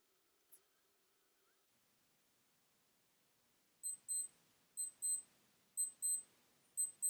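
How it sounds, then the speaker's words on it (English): A Casio AE-1300WH digital watch alarm sounds after a quiet stretch, giving bright high-pitched electronic beeps in quick double pulses that repeat four times in a steady rhythm, close and clear. "Last but not least, we have the alarm function"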